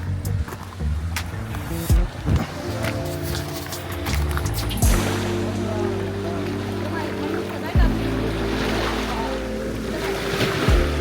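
Sea waves break and wash steadily onto an Italian shore, a continuous loud surf roar with wind noise and occasional heavier surges, and voices murmur underneath.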